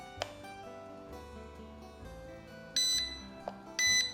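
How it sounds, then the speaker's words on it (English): A LOOLINN X26 beginner drone's controller sounds in headless mode, with repeated short electronic beeps at intervals over a low background hum, fairly faint and close, with no talking. "it'll beep continuously the whole time you're flying it and annoy you"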